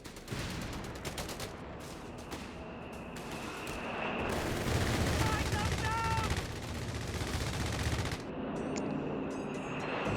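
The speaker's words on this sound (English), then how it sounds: "Grenadiers under fire!" Machine-gun and rifle fire aimed at grenadiers in Company of Heroes 3 crackles in rapid bursts that swell into a heavy, sustained barrage before easing, while voices talk over the fighting.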